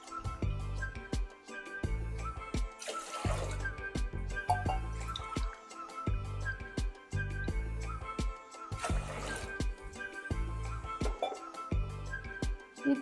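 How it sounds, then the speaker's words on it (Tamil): Three tumblers of water pour and trickle into a pot for ven pongal, with wet dripping and splashing, steady and close, broken by short gaps. "இப்போ இது 3 டம்ளர் தண்ணி சேர்த்துடலாம்"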